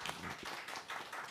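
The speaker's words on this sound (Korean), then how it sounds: "다시 한번 우리 배인교 교수님께 박수 주세요." Audience applause at a cultural center anniversary event, faint and brief, a soft patter of clapping with scattered hand claps and a little background voice.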